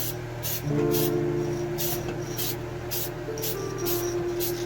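Spaz Stix black backer paint spraying from an aerosol can in a thin coat, heard as a series of short, loud hissing bursts of roughly even rhythm over a steady low background hum.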